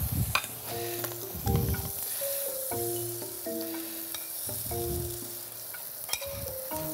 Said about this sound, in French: On va mettre une petite noix de beurre à l'intérieur.